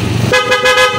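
A loud aftermarket horn fitted to a Honda ADV 160 scooter gives one sustained, bright blaring tone close up, starting abruptly after a short stretch of low rumble and holding steady to the end.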